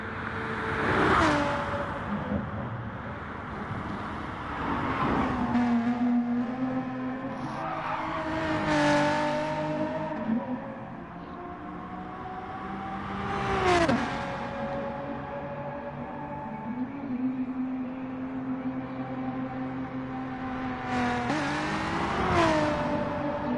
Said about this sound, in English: Saxo goes down that long straightaway. Immense speed can be picked up there.